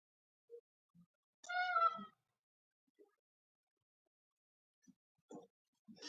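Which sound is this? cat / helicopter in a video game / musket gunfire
cat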